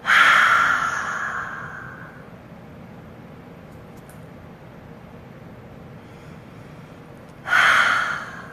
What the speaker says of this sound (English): I'm doing a lot of breathing.